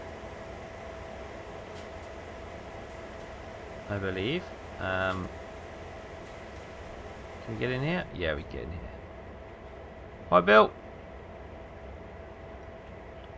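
A locomotive in Train Simulator World runs as a low, steady hum and drone under a misty autumn evening setting, while someone talks in short phrases over it.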